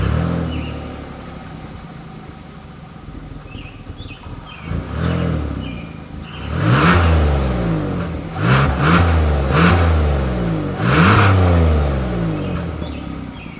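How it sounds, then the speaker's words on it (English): A 2023 Hyundai Palisade's exhaust idles, then is revved several times in quick bursts, each rise and fall distinct and close. "here is that exhaust clip"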